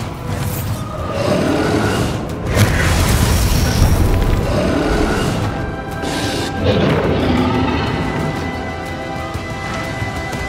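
A Bombarda blasting spell goes off in Hogwarts Legacy, a loud booming explosion with a rumbling tail that swells and recurs across the stretch amid dense battle noise and no speech.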